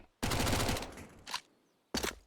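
A Negev machine gun fires in Counter-Strike on the Inferno map: one long sustained burst, then a short pop and a final brief burst, all loud and close.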